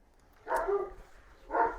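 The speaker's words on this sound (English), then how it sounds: "I don't know what she's barking at." A dog barks twice at a moderate distance indoors during a sewing class, short muffled woofs about a second apart with quiet room tone between.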